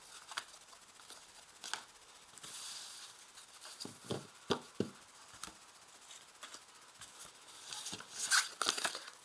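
Tarot cards being shuffled by hand, faint soft rustles, brushes and crisp flicks in short irregular bursts, close and quiet with no talking.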